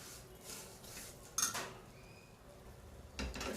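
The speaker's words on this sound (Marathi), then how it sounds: "आपण असं या तुपामध्ये अलगद थोडंसं परतून घेऊया" Cashews and raisins turned gently in ghee in a pan for a jaggery vermicelli kheer, with faint quiet frying and a few soft clinks of a spoon against the pan, close by and without speech.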